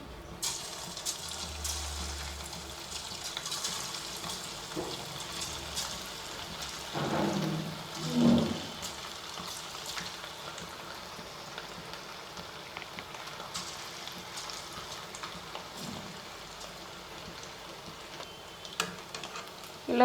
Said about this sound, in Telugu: ఆయిల్ హీట్ అయిందండి. ఇప్పుడు దీనిలోకి పకోడీలను యాడ్ చేసుకుందాం.